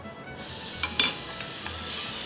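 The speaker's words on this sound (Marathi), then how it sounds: "फोडणी गरम असतानाच ती आपण तिखटावर घालूया" Hot tempering oil poured over chili powder suddenly bursts into a loud, steady sizzle with a couple of sharp crackles and utensil taps, close and continuous.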